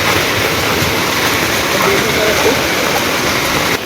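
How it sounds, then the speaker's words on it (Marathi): Heavy monsoon downpour outdoors, a loud, dense, continuous hiss of rain falling on surfaces with no break, close and enveloping. "आणि जबरदस्त पाऊस"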